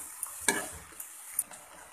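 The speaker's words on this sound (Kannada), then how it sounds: "ಹಾಕಿ ಎಲ್ಲ ಚೆನ್ನಾಗಿ ಮಿಕ್ಸ್ ಮಾಡ್ಕೊಳ್ಳಿ." A spiced vegetable biryani mix with turmeric and masala powder being stirred in a pan, giving soft scraping strokes and a few sharp spoon clinks over a faint sizzle, with no talking.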